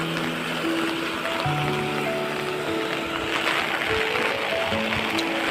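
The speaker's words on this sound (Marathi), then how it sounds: "आता ह्याच्यावरनं पण पाणी जायला लागलं इथून मोरीवरून." Floodwater rushes over a small roadside culvert during heavy Konkan monsoon rain, a continuous nearby churning roar of flowing water with a steady hum in the background.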